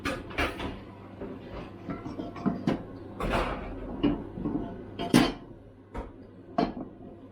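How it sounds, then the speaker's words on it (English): A metal wok rack set down onto a cooking pan in a home kitchen, giving a few sharp clanks and knocks spread across several seconds. "we just chucked the wok thing on there"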